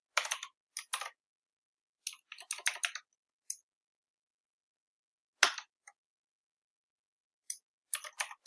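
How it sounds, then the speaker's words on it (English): Quick bursts of keystrokes on a computer keyboard while Kotlin code is written, clicking in short runs separated by silent pauses, close and fairly quiet, with no talking. "I think so I need to type it."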